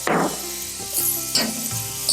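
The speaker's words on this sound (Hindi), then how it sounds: "जिसे सुनहरा होने तक भून लेंगे।" Chopped onion, ginger, garlic and green chili hit hot oil in a pan with a close sizzle that surges and fades in short bursts as they are stirred, with no talk.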